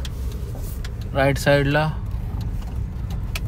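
A car driving along a road: a steady low engine and road rumble close by, with someone speaking briefly over it.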